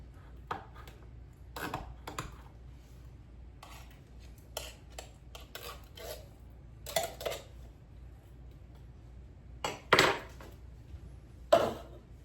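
Carrots are chopped with a knife on a cutting board in a home kitchen, sharp scattered knocks coming singly and in short clusters with gaps between, close and clear in a quiet room.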